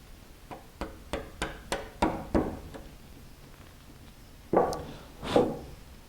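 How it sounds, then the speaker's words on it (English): A chisel cleaning up a wooden dovetail joint, a series of about eight crisp taps in quick succession, then a pause and two heavier knocks, close and fairly quiet. "We'll clean the rest of this up with a chisel."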